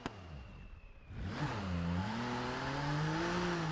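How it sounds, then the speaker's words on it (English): A tuned turbo six car in BeamNG does a burnout: after a short quiet idle the engine jumps to a loud, sustained high rev that climbs and holds, with tire squeal mixed into the roar. "Oh, please do a burnout."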